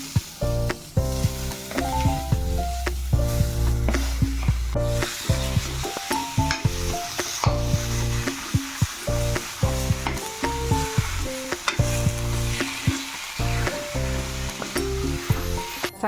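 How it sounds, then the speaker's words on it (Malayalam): Potatoes are stirred into a sizzling kachori masala, the frying hiss sitting underneath loud, melodic background music for the whole stretch. "ഉരുളൻകിഴങ്ങ് ചേർത്ത് ഇളക്കി കൊടുക്കാം"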